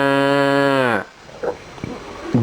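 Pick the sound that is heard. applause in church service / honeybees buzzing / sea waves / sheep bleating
sheep bleating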